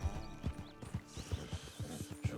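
Horse hooves in Red Dead Redemption 2 clop in an even walking rhythm on a paved path, about two steps per second, close and clear over a soft ambient backdrop.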